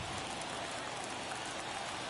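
Steady rain pouring onto a baseball field in MLB The Show, a dense, even wash of patter with no breaks, fairly quiet and constant throughout.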